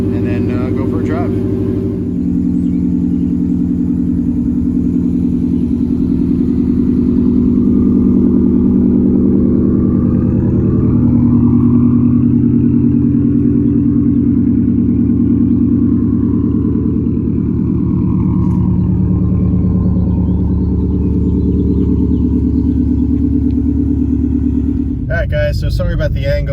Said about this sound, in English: I'm just gonna let the car run. Obviously I'm gonna drive it, let it warm up